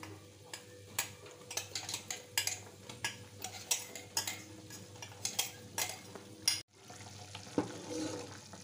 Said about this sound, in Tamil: இந்த ஸ்டேஜில் இந்த புளியோதரை பொடியை கலந்துக்கோங்க.